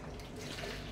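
Vinegar pouring into a marinade, a steady liquid splash and gurgle that is close and continuous throughout.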